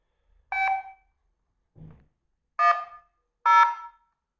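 A 1989 Motorola 4800x mobile phone gives three short electronic beeps as its recall key is pressed, with a faint low click between the first and second, close and clear with no talking.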